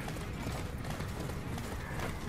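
Horse hooves in the Attack on Titan video game, a rapid continuous clatter of galloping mixed with dense game noise, steady and fairly loud throughout.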